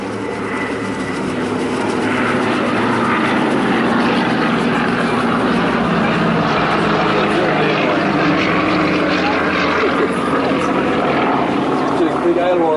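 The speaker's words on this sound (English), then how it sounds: "Doing big aileron rolls around a DC-3, a C-47." Warbird aircraft flying aileron rolls around a DC-3 (C-47) at the Warbirds over Wanaka airshow, a loud continuous propeller engine drone that rises and swells as it passes, heard under a commentator's steady talk.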